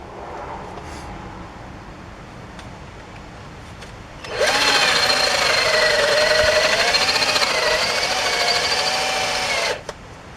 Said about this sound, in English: it looks like we have to go a little deeper with the drill to get that rotor off